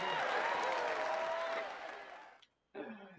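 Crowd clapping sound effect from The Naked Brothers Band video game, a loud wash of applause that fades out, then breaks off briefly before returning.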